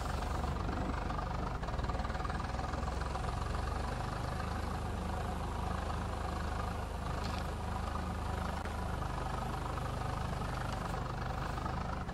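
A Swaraj 855 tractor engine in Farming Simulator 22 drones at a steady idle, a dense, constant rumble that stays loud and unbroken for the whole stretch.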